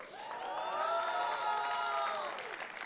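Audience applause at EA's E3 2018 press conference, a sustained wash of clapping and crowd noise from a large hall that swells and then tapers off over a few seconds.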